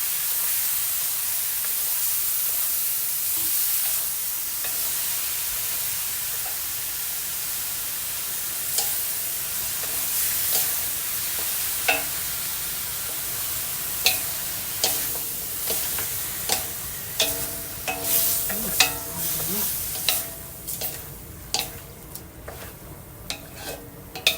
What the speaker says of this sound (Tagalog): So, mix lang po natin ito.